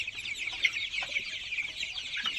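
Tiger chicken chicks, about 24 days old, give a continuous high-pitched peeping and cheeping, fairly faint and close, with no talk.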